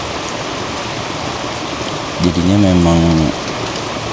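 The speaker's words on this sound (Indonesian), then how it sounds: "sekarang lagi hujan dan anginnya lumayan besar" Heavy rain with strong wind beats steadily on a campsite, a dense constant wash, and a person speaks briefly over it partway through.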